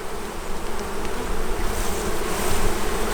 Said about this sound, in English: Shake some bees off just to make sure none of them get killed.